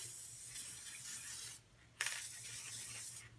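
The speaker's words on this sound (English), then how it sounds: "I will take the craft adhesive and I will spray the areas where I want to put the glitter" Craft adhesive spray can spraying onto holiday decor before glitter is added: a quiet steady hiss running for over a second, a short pause, then a sharper burst and further hissing, close up, with no talk.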